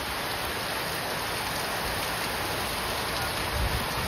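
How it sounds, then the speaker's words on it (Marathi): Steady heavy rain pours over a village, a dense unbroken hiss of water filling the whole clip at constant loudness, with no voices. "आता परत पाऊस आला"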